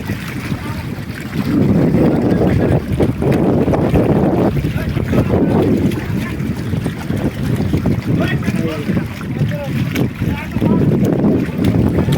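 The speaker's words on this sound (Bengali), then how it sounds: "মহাজন নাই, চলে আসছে ট্রলারটি।" A trawler moves across open water in strong wind, its engine rumble and splashing blended with heavy gusty wind noise, loud and continuous throughout.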